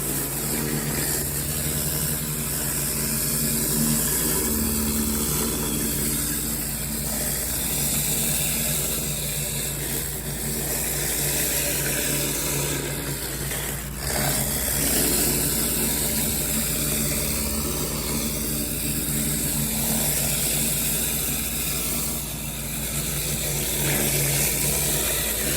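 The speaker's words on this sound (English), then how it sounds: "I'm gonna clean this little concrete bib right here with my surface cleaner before I do my final rinse" A pressure washer with a surface cleaner runs across a concrete slab, making a loud, continuous engine-like drone and rushing spray that holds steady for the whole stretch with no talking.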